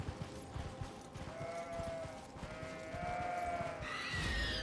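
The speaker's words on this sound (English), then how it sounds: "They had lots of sheep." Sheep in the video game Elden Ring bleat repeatedly in wavering, drawn-out calls, several overlapping across the clip, over a low murky game ambience that swells louder near the end.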